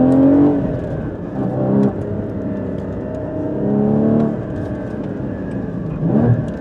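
A Porsche 981 Cayman GT4 engine revs and drops in pitch through a rev-matched downshift to first gear, blipping the throttle with sharp rises and falls, loud and close.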